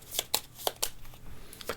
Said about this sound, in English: Just going to give these a shuffle.